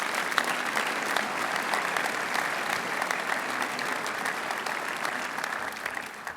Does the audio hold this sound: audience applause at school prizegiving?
yes